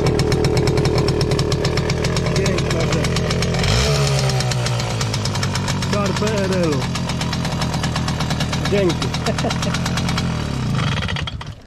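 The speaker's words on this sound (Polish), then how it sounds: "Ale zobaczcie na to cudeńko, kolega przyjechał motorynką." A PRL-era Motorynka moped engine starts and runs with a loud, steady two-stroke buzz, revving up partway through and holding close to the mic for the whole stretch while several people talk over it.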